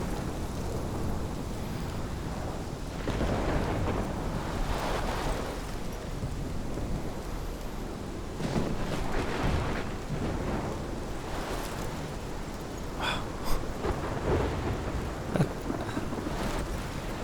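A thunderstorm in the Life is Strange game, with steady heavy rain and gusting wind under repeated rolling thunder that swells and fades in waves, plus a few sharper cracks near the end, with no voices heard.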